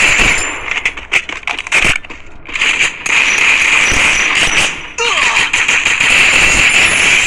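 Rapid bursts of gunfire from a Free Fire mobile battle game, a headshot landing on an enemy amid dense crackling shots that pause briefly and then resume in loud, continuous volleys.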